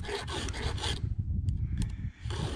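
A hand file rasps across a chainsaw chain tooth to clear off a small burr, a few quick scraping strokes close up, then a pause with light clicks before another stroke.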